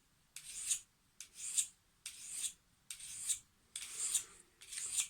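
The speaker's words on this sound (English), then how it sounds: "maybe I'm going to use this diamond file because it's a bit coarser" A knife is being sharpened on a coarse diamond file, six soft rasping strokes in a steady rhythm, close and quiet, with no voices.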